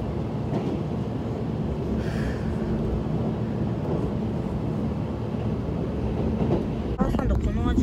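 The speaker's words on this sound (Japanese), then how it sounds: "そして列車は武田駅をね通過していきます。" A sightseeing express train runs through Takeda station, heard from inside as a steady, moderately loud rumble of wheels on track with faint clatter and a brief sharper disturbance near the end.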